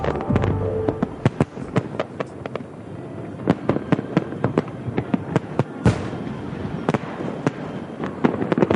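Fireworks fired from barges on New York's East River, a dense barrage of sharp bangs and crackling bursts at about a thousand shells a minute, loud and continuous over a rumbling background.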